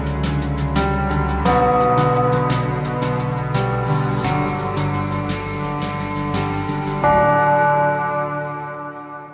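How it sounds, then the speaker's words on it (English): Bells ringing in the background of a song, a steady series of pealing strikes with long ringing tones layered over sustained musical chords, loud and continuous with no talking. "I just love the bells in the background"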